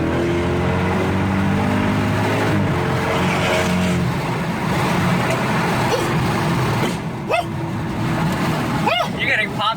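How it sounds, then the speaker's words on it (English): A BMW 550GT wagon's engine rumbles and revs nearby through a 3-inch free-flow exhaust, throaty with a few sharp pops toward the end, while people talk over it. "We built a full 3-inch free flow exhaust for the car."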